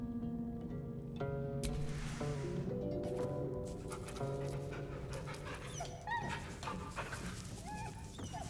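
A dog in the fantasy role-playing game Baldur's Gate 3 pants and whimpers in short yips over a dense bed of game music and ambience, close and steady, with no talking.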